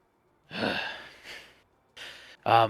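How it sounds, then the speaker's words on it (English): Heavy, slow breathing of a monstrous mass deep within a pillar-lined hole in a Dungeons & Dragons ambience, a few long rasping inhales and exhales with pauses between, ending in a sharper, louder breath. "you kind of still hear that mass breathing from within"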